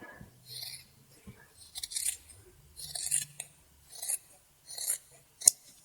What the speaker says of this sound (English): let's just go ahead and cut it